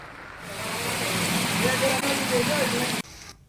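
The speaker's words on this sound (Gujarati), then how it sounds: "કડાકા ભડાકા સાથે ધોધમાર વરસાદ વરસ્યો છે" A constant hiss of heavy monsoon rain pours down in Nadiad, Kheda district, Gujarat, loud and steady, then cuts off abruptly near the end; a voice murmurs faintly beneath it.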